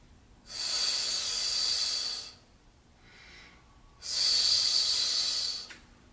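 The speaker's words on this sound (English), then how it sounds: "Then release it as you come up through pursed lips" Two long breathy exhales through pursed lips during a deadlift, each a close hissing rush lasting about two seconds, separated by a quieter faint inhale.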